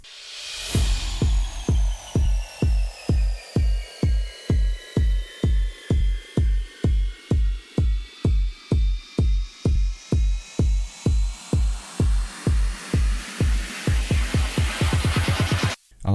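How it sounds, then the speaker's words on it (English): A stutter house build-up layers kick drums and rides that repeat steadily and speed into a rapid roll near the end, with crashing cymbal transitions, impacts and a long rising uplifter sweep. The whole thing is loud and electronic, with no voices. "I've used a combination of loads of cymbal transitions and impacts,"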